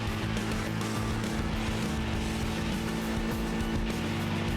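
Flat-four car engine in the racing game TXR 2025, a continuous loud droning growl with shifting revs, dense and steady throughout without speech.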